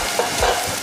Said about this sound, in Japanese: で、ニンニクと生姜を炒めます。